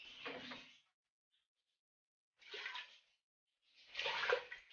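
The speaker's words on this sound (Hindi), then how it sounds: "इसमें मैं 3 कप पानी का ऐड करूंगी।" Three cups of water are poured into a cooking pot of softened onions for a salted mutton and onion dish, in three short splashing bursts separated by silence, close and fairly quiet.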